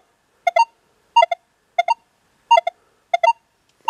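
Etrac metal detector sounding off over a buried target at a few inches' height, giving six evenly spaced pairs of short bright tonal beeps, clear and alone with silence between them.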